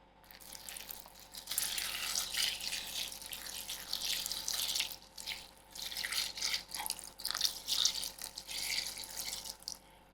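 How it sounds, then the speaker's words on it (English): Vinegar is poured over whole chillies in a container to soak, a steady close liquid trickle and splash that swells and eases across the pour. "Here I'm using vinegar to put these chilies to soak up."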